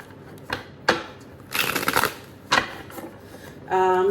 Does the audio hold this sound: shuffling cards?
yes